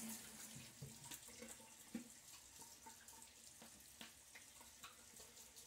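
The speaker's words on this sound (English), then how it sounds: "a cold water rinse, like I just gave myself" A sink tap runs for a cold water rinse after a shave, faint and steady with light splashing and a few small clinks, no talk.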